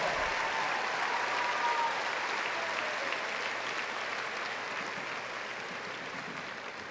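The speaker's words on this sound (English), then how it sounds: "Please give them a round of applause." Sustained applause from a large audience at the John B. Alexander High School graduation ceremony in 2019, a dense, steady wash of clapping that fades slightly toward the end.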